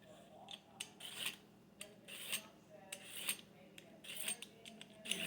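Carrots from a home garden being grated by hand, giving a series of short dry rasping strokes in uneven bursts, close and fairly quiet, with no talking.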